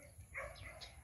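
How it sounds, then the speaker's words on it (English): A pet dog in a countryside neighborhood of Iloilo, Philippines gives a few short, soft barks or yips, fairly faint and at a distance, over low outdoor background noise. "our dog"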